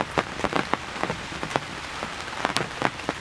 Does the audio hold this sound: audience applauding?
no